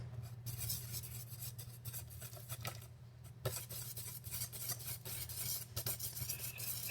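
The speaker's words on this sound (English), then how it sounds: "And stir it" Warm milk is stirred into eggs in a bowl while tempering for creme brulee, soft close whisking and scraping strokes in an uneven rhythm over a low hum.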